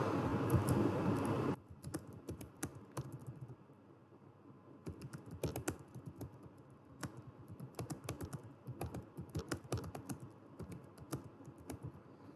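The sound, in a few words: typing text on a computer keyboard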